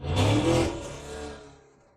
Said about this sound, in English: It's a loud car outside.